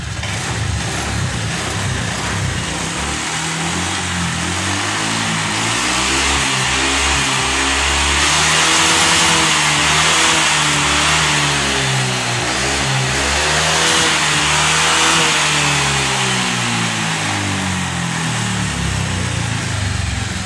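A car engine running steadily at idle during a radiator coolant and oil check, with a loud, continuous mid-pitched hum and a slight swell in revs partway through.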